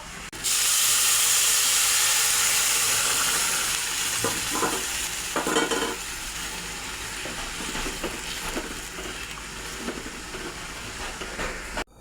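Water hits hot ghee-fried rice in a pan, bursting into a loud hissing sizzle and steam that gradually settles into a steadier bubbling with occasional stirring scrapes.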